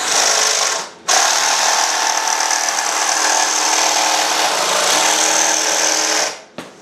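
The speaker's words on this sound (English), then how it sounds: "I got my little Milwaukee M12 jigsaw for doing this sort of thing, so we'll go ahead and use it." A Milwaukee M12 cordless jigsaw cuts steadily with a loud, continuous buzzing drone, pausing briefly about one second in before running on for several seconds and stopping near the end.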